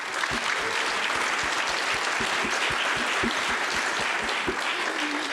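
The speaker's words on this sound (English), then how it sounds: "Let's give another round of applause for Cohort 6." An audience applauds Cohort 6 at the XRC Labs demo day at Parsons School of Design, with dense, steady clapping holding at an even level from start to finish.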